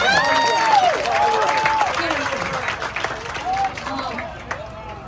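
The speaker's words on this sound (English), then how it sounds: "Give yourself a round of applause." A crowd at a youth volleyball medal awards ceremony during a Hmong international festival applauds and cheers, with clapping that fades while voices and excited calls carry over it.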